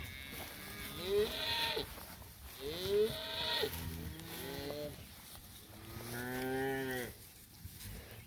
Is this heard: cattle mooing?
yes